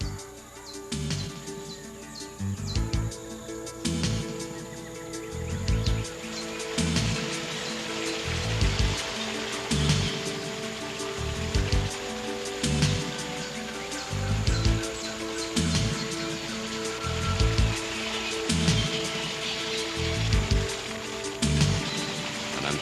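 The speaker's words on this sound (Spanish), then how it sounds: "la lluvia que desciende por la ladera" Steady rain falls on a limestone hillside in a national park forest, a constant patter with rhythmic dripping throughout, and faint birds and insects in the background.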